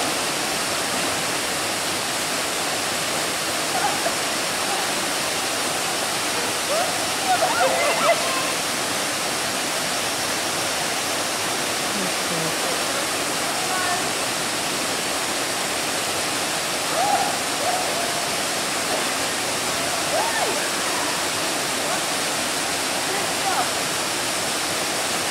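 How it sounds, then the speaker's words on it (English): Waterfall at Tabin in Borneo, a continuous loud roar of falling water with faint splashes and brief distant voices now and then. "There's a waterfall in Tabin."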